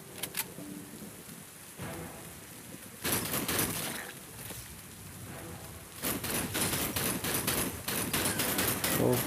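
Gunfire in the Lost in Blue island survival game: dense, sustained crackling volleys that swell loudly for several seconds, pause, then return heavier, with no talking.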